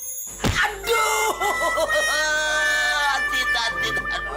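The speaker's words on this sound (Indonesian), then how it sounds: "Teriak-teriak macam orang kesurupan" A person screams in pain after a cardboard box falls on their foot, one long, loud, wavering wail held for several seconds over a low hum.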